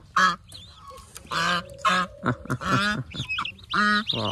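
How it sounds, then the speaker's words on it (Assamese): Geese with six new goslings honk in loud, close bursts, several calls overlapping in quick succession. "এয়া হৈছে আমাৰ নতুন পোৱালি ৰাজহাঁহ আছে আকৌ আৰু নতুন পোৱালি কেইটা আছে"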